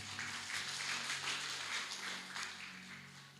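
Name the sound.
applause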